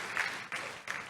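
Faint applause from a church congregation during a sermon, a soft, steady wash of clapping heard in three brief swells from some distance.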